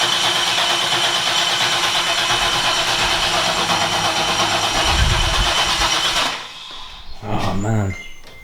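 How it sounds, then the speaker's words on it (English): A Porsche 911 engine cranks over without ignition: a loud, steady, buzzing starter drone for about six seconds, then it stops and a voice speaks briefly. "Just turn it over on the, without ignition to get the oil pressure up."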